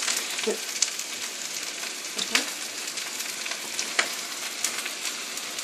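Minced garlic sizzles in hot butter in a pan for shrimp fried rice, a steady, fairly quiet frying hiss with a few light stirring clicks scattered through it.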